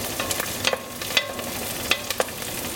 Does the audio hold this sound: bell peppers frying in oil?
yes